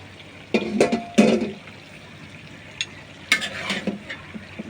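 Boiled chana dal being poured into a pan of chicken offal curry and stirred, giving a few loud wet splashing bursts with brief sizzle between quieter pauses, close and without talk.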